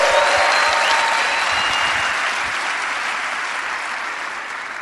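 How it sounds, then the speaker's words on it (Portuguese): Congregation applause during a church worship service, a dense wash of many hands clapping continuously, loud and sustained, fading slightly toward the end, with faint voices underneath. "Dá um aplauso a Ele"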